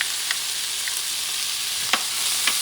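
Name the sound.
garlic frying and being stirred for paella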